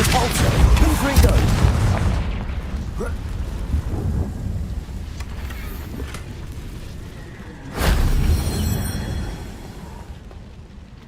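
Spell blasts boom heavily in the Hogwarts Legacy video game during a boss battle against an ancient titan, loud rumbling explosions with a second sharp burst near the end, as a voice talks over the noise.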